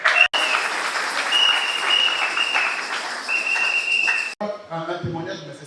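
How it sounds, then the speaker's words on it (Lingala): An audience claps warmly at a Salvation Army ceremony honouring Major Nzila: a dense, sustained burst of applause for about four seconds with faint whistling, then a short stretch of a speaking voice. "Est-ce qu'on peut juste applaudir pour cette dame?"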